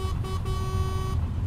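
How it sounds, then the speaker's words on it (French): A truck horn sounds in Euro Truck Simulator 2, a steady tonal honk over the constant low rumble of the engine. It comes in short bursts that break briefly, then holds, then cuts off near the end. No one talks. "J'espère que je vais pas me faire engueuler d'avoir klaxonné."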